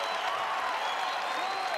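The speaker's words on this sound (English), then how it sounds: "Great crowd, phenomenal atmosphere." A college wrestling arena crowd in Lincoln claps and cheers in a dense, continuous wash of applause, heard at a moderate distance with no clear talking.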